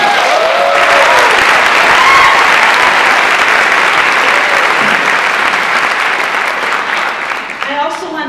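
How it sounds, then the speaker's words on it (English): An audience at a Fairview High School talk claps in a big, steady round of applause, dense and loud throughout, fading slightly at the end as a voice begins to speak. "I want to give a big round of applause"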